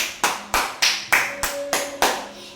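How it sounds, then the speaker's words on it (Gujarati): Loud clapping, seven sharp evenly spaced claps, close and alone. "પહેલા પહેલા જોરથી તાળીઓ વગાડ્યો"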